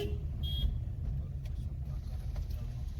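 A car idles and rumbles low and steady at a crowded temple in Nadhal, with faint traffic noise around it.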